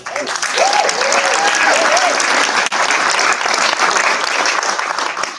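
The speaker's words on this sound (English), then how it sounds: "Can we give them a round of applause?" Loud, dense applause from a high school signing day crowd, steady throughout with a momentary dip midway, and a faint voice or cheer rising briefly early on.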